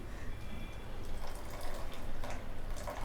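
Water drains from half-cooked rice being readied for chicken dum biryani, a close, continuous trickle and splatter with small drips and no one speaking.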